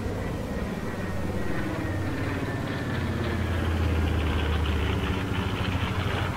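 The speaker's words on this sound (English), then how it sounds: "Don't get to hear radials of that sort of horsepower cruising around very often." A heavy radial propeller engine of a WWII warbird aircraft drones steadily overhead at an airport, a deep throbbing rumble that swells slightly, with no voices.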